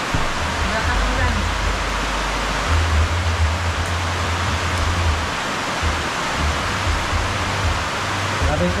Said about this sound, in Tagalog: Grabing uwan, malakas.